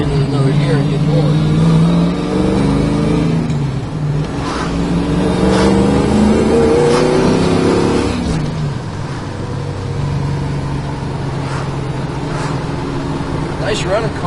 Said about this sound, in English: Just a great running car.